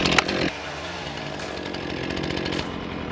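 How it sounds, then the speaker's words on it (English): A chainsaw bites into a tire sidewall with a short loud burst, then carries on at a steady, high-revving buzz through the rubber. "we're gonna put this chainsaw through that tire."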